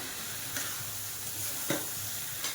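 Spoon stirring ground spice paste through millet rice (vari) frying in a pan, a steady low sizzle broken by three short scraping strokes, close and alone.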